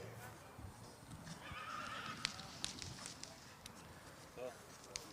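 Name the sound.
Friesian horse whinnying and hooves clip-clopping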